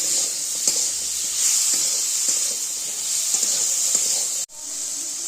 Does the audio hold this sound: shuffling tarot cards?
no